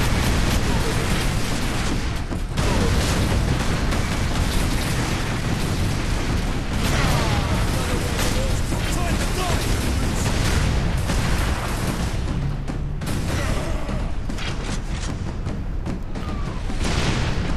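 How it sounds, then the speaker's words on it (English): Dense, continuous gunfire and explosion booms from the Space Marine video game, a steady loud barrage of shots and blasts running throughout with no clear pauses. "I'm just gonna stay back and shoot. Just lay down fire."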